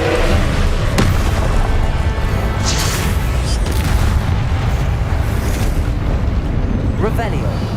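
Confringo fire spell blasting in Hogwarts Legacy, a loud, dense explosive roar that fills the whole stretch with rumbling bursts and crackling debris, carried over continuous game sound.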